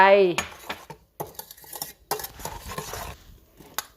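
A spoon clinks against a bowl in uneven bursts as a salmon salad with chili, shallot and apple is stirred at close range, with a voice heard briefly between the clinks.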